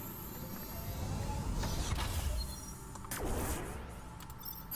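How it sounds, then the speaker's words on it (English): A door in the video game Dungeon of the Endless grinds open with a creaking, mechanical whir and rattling gears, a sustained mid-level sound lasting a few seconds. "And we'll open this door instead."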